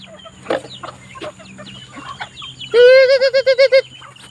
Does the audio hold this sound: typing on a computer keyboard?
no